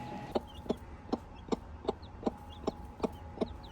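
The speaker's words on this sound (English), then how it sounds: "There's the chickies and the new mama." A mother hen with newly hatched chicks in a hatching setup, giving a steady series of about ten short, evenly spaced clucks, close and moderately loud, with no talking.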